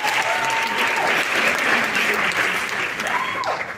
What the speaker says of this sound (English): please give a big hand of applause to this trailer